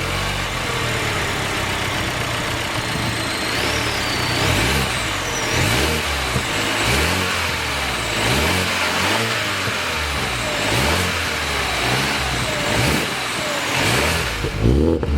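A 2021 Toyota GR Supra's 2.0-liter twin-scroll single-turbo inline-4 runs loud and close, rising and falling through repeated revs from a steady idle, with no talking over it.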